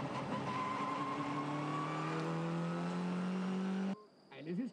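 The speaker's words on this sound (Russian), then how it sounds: "такой гурьбой несутся все машины" WTCC touring race cars in a qualifying session at the Salzburgring roar past as a pack, a loud sustained engine drone with rising whine that cuts off abruptly near the end, leaving only faint distant noise.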